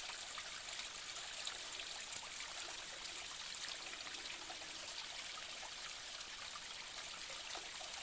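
A small stream trickling over rocks and little waterfalls in the Chmeľová gorge of Kopytovská valley, a steady, soft, continuous babble of water with no voices.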